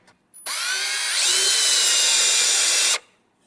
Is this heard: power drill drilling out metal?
yes